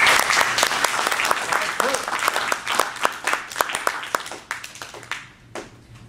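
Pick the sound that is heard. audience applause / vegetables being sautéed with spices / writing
audience applause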